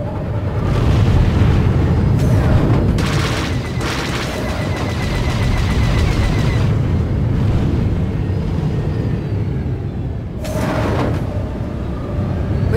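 A starfighter in Star Wars: The Old Republic takes fire, with booming explosions and rattling gunfire layered over a continuous roaring engine rumble, loud and dense for the whole stretch.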